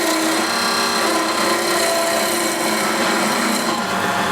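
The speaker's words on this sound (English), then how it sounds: "So you go above rotation and raising the handle until it starts to peel." A wood lathe taking a peeling cut on a skipping rope handle, a loud, steady, unbroken shaving hiss of the tool against the spinning wood, close up and alone.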